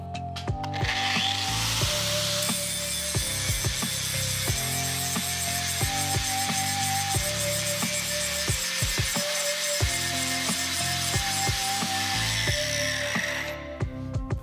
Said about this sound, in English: Now I'll grind copper.